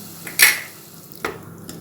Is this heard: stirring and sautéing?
yes